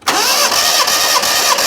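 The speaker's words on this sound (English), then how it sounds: "crank her over then" Proton Satria petrol engine cranking over on its starter motor, a steady continuous whirring drone that holds loud and close for under two seconds with no voices.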